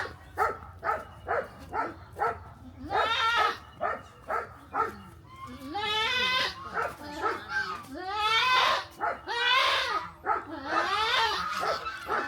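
A young goat kid on a farm bleats close by in repeated short cries, then longer wavering calls, a busy run of vocalising with people chatting in the background.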